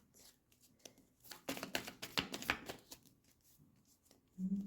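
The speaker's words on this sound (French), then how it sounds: "Tirons une carte." Tarot cards being shuffled and drawn during a weekend love reading, quiet soft riffles and flicks of card stock bunching in the middle, then a brief rustle at the end.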